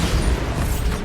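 A Bombarda spell explosion in Hogwarts Legacy, a short, loud, rumbling blast with a broad, noisy body that fills the moment, heard alone without voices.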